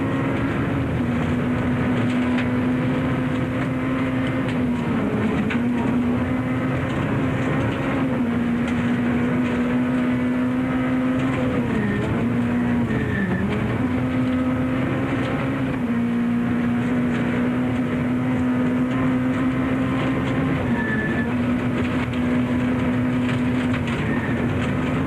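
A rally car's engine drones loudly and steadily at high speed through a fast stage, with a sustained low tone rising and dipping slightly in pitch as speed changes.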